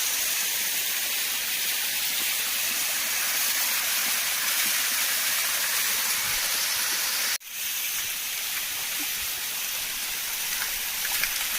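Waterfall water tumbling down a hillside in Balasore, Odisha, a steady broadband rushing roar with a brief dropout near the middle before the same constant flow resumes, no voices.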